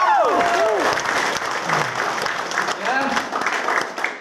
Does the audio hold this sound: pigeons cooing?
no